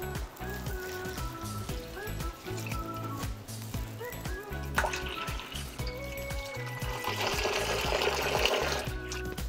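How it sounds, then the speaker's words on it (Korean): Cold water pours into a bowl of dried seaweed set to soak, a steady splashing fill that grows louder and brighter toward the end, over faint kitchen background noise. "찬물에다가 미역을 불려 볼게요. 물을 부어줍니다."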